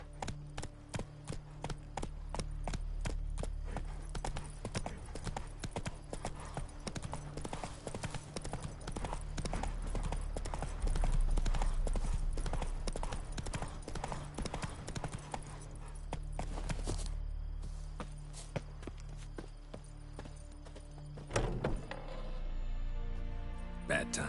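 Horse hooves clip-clop in a fast, steady galloping rhythm in The Witcher 3, loud and continuous under game music and ambience before slowing near the end.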